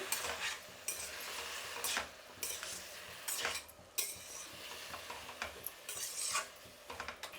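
Jackfruit pieces for biryani fry in a pan and are turned with a spatula, giving faint repeated scrapes and clinks over a quiet low sizzle.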